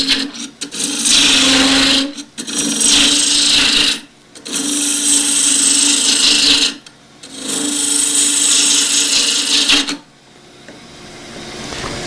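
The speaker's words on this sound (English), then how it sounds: "use peeling cuts just to take away the waste" Wood lathe turning a scoop with peeling cuts, a gouge shearing the spinning wood in four long bursts of harsh scraping hiss over a steady motor hum, broken by brief pauses.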